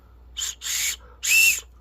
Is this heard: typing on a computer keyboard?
no